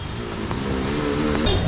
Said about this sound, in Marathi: इकडे गाड्या आता चालल्या आहेत पाण्याखाली हळूहळू